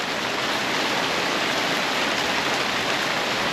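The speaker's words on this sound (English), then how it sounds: "It's raining pretty good now." Steady outdoor rain pours down near a beach, a dense, even hiss of drops that stays loud and unbroken throughout, with no talking.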